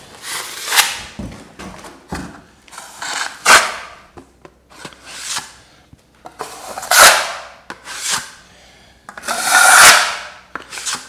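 A tool scrapes wet plaster along a bedroom wall in an 1880 house, giving about eight loud, close rasping strokes, each swelling and fading with brief quiet gaps between them and no talking.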